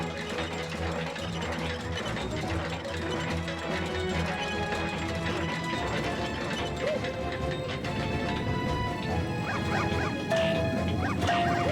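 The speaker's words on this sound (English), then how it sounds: "The mini chain chomp. The happy barks." Mini Chain Chomps from Super Mario Galaxy giving happy barks, short yappy calls over a busy, rattling mechanical game background with music, steady and fairly loud throughout.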